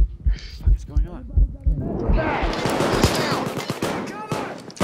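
Gunshots in PAYDAY 2, a rapid series of sharp cracks that starts as a few spaced, thumping shots and turns into dense, continuous firing over a noisy, chaotic background, with a voice speaking briefly underneath.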